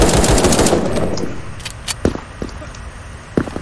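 AK rifle fired in the Krunker.io online shooter, a rapid loud burst of automatic gunfire that cuts off, followed by a few scattered sharp shots and clicks.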